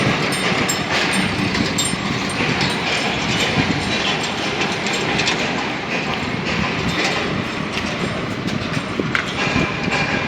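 A train rolls past on rails with a continuous loud roar and rhythmic clickety-clack of wagon wheels over track joints, sustained and close throughout with no voices.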